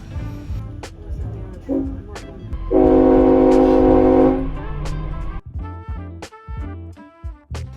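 An Australian passenger train between Rockhampton and Brisbane rumbles along with clattering wheel noise, and a sustained horn blares loudly in the middle before the rhythmic rolling returns.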